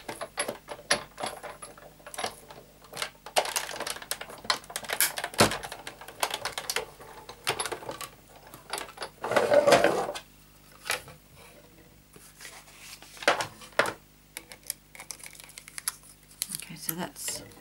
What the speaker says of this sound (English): I'm putting a piece of paper on top before I push this through the big shot.